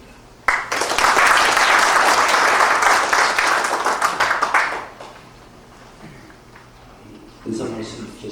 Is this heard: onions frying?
no